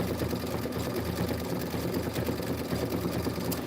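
A sewing machine stitches continuously at a steady, fast mechanical pulse, with a dense motor hum and rapid needle chatter that holds evenly across the clip.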